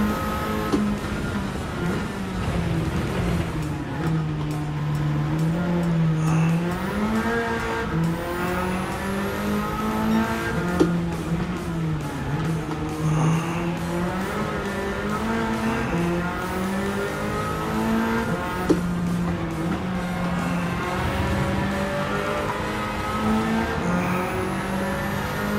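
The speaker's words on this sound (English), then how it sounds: "This car is a nice car to drive." Race car in Gran Turismo 7 played in VR, engine droning and revving steadily through gear changes with faint tyre noise, loud and continuous with no talk.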